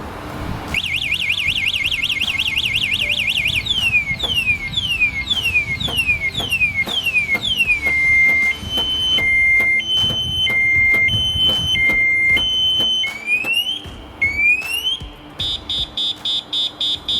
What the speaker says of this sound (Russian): Полноценная сигнализационная система с блокировкой заднего мотор-колеса